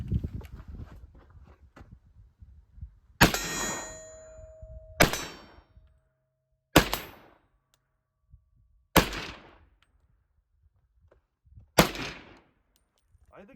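Five loud, well-spaced gunshots from an M1 Carbine .30 carbine rifle fired offhand, each with a sharp crack and a brief echo, some followed by a ringing clang from a steel target downrange.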